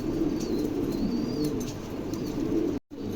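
A black pair of Pomeranian pouter pigeons coo steadily in low, throaty rolls, close and continuous, with a brief break near the end.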